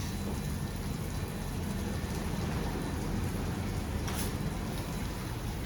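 Rinse water sprays steadily from the twin nozzles of a WashTec car wash at a Wagga Wagga car wash, giving a dense, even hiss like heavy rain drumming on a surface, with no pauses.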